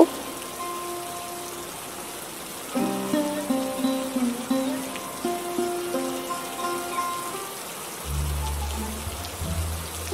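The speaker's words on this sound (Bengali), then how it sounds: "বাইরে তো খুব বৃষ্টি হচ্ছে" Steady rain hiss runs throughout a Bengali animated cartoon scene, with voices and tonal sounds over it for much of the time.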